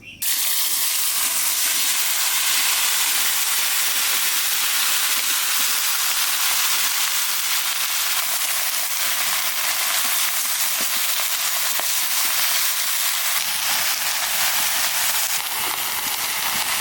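Radhuni and black cumin seeds tempering in hot oil for a hilsa-head and taro dish, a loud dense continuous sizzle and hiss that starts abruptly and holds steady throughout.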